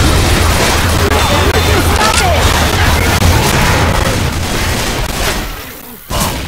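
Rapid gunfire from zombie-survival co-op shooting in Left 4 Dead 2, a dense continuous clatter of shots and booms filling the scene, easing off briefly near the end before resuming.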